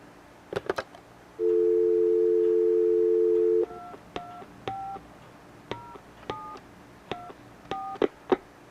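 A telephone dial tone holds steady for about two seconds, then a run of keypad DTMF beeps follows as a number is punched in, each tone short and clear, spaced in small irregular groups.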